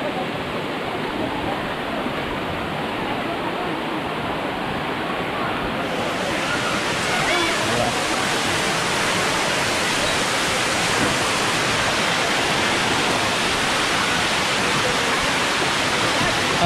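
Gabur-Gabur Falls roars with a loud, continuous broadband rush of falling water close by, steady throughout and slightly fuller after the first few seconds, with no clear voices.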